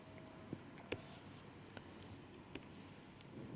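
Chalk or marker tapping and scratching on a board during a mathematics lecture on least squares, a few soft, scattered taps and strokes over a quiet, faintly noisy room.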